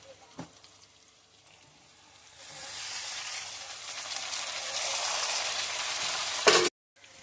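Drumstick pieces (munakaya) frying in a pan for a tomato curry, with a steady soft sizzle that rises midway and holds, then a brief clatter of stirring before cutting off.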